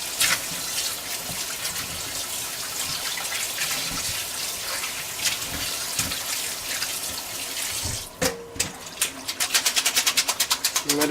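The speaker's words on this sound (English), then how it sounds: "we're going to go ahead and rinse our meat off using cold water" Cold tap water runs steadily into a sink to rinse meat, splashing continuously, then shifts to a quicker, choppier spatter toward the end.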